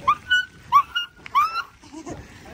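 A man imitates a dog with his voice, giving a few short, close yelping barks and whimpers in a quick rhythm during a group bicycle outing.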